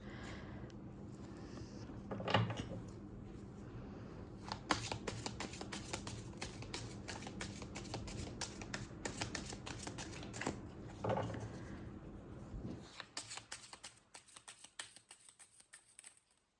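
Tarot cards shuffled by hand in a quiet room, a steady rapid riffling patter with a few louder taps and pauses, close and fairly soft, no talking over it.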